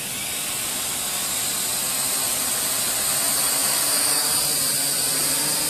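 A small Ares Ethos QX130 quadcopter drone spins up for takeoff with a steady, loud, high-pitched whine of its motors and props. The sound swells slightly and holds without pause, with no voices heard.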